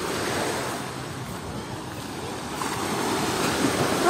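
Black Sea waves wash onto the shore in a steady, close, broadband roar that swells slightly toward the end, with some wind noise and no talking.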